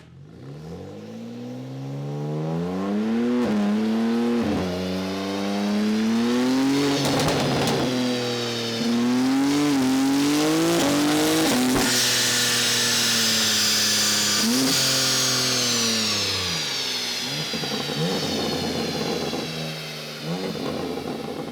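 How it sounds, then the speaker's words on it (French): A tuned 724 hp car revs hard on a dynamometer during a final test. The engine rises and falls in repeated loud sweeps and sustained high-rpm pulls, close and continuous, with no voices. "on va pouvoir la shooter sur le banc pour faire le test final"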